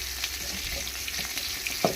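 Tempering (talimpu) frying in hot oil in a pan, a continuous soft sizzle with small crackles and a light stirring clink near the end, moderately quiet and close, no voices.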